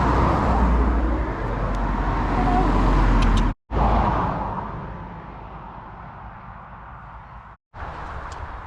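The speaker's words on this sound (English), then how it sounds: "this very popular little village, which unfortunately has a lot of traffic going through it" Steady road traffic rumbles through Hathersage village on a busy main road, a continuous loud wash of car engines and tyre noise with vehicles passing close by, broken by two very brief drops.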